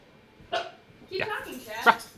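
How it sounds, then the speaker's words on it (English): A dog barks during a live whiskey tasting: a few short, sharp barks spaced over about two seconds, close by, with voice sounds mixed in. "dog barking."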